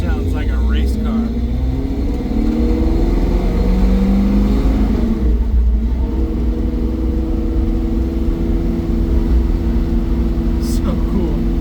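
1963.5 Ford Galaxie with a newly installed exhaust driving on the road, a loud, steady engine drone and rumble from inside the car, with someone talking over it.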